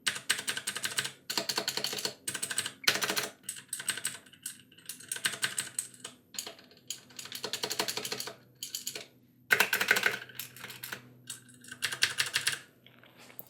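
Keys on a Ducky Mini 60% Cherry MX mechanical keyboard bottom out in rapid, crisp clacking bursts separated by short pauses, loud and close with no talking.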